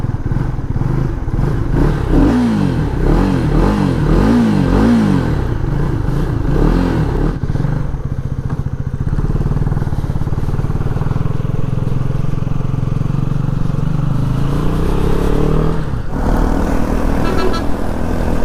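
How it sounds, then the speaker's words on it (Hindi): KTM Duke 250 motorcycle, 2025 BS7 model, with a steady, loud engine and exhaust drone while riding, rising and falling revs early on, then a continuous hum with wind noise throughout. "एग्जॉस्ट नोट सुनिए।"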